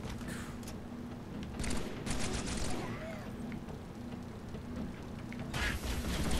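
Video game gunfire in Halo 3 on heroic difficulty, bursts of shots and rattling fire amid battle noise at moderate level, louder near the start and end, with people talking over it.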